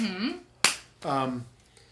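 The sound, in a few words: finger snapping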